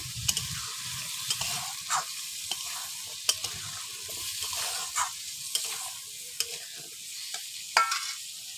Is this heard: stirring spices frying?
yes